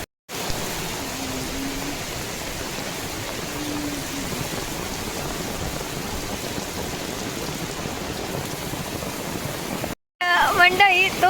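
Heavy rain pouring down in a Konkan forest, heard from shelter beneath trees as a loud, unbroken roaring hiss that lasts about ten seconds before a sudden cut to other sound.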